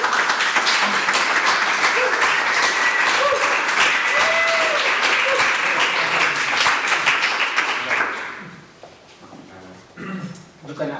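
Applause from the audience at the end of a talk on designers and coders: a loud, dense round of clapping for about eight seconds that then fades out as voices take over.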